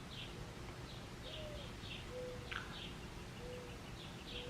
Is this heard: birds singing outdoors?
yes